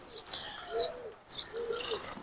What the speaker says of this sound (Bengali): এটা যে কবুতর খেয়ে ফেলছে।